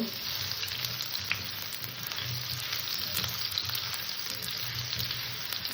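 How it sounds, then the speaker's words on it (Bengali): Potatoes frying in a pan, a steady close sizzle with soft crackling and faint stirring throughout, no voices. "আলু কটাকে আমি একটু হালকা করে ভেজে নেব"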